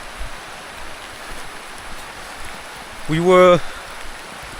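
Steady rain hisses evenly in the background outdoors in a village in Bua Province on Vanua Levu, Fiji, a soft constant wash with a brief voice speaking over it near the end.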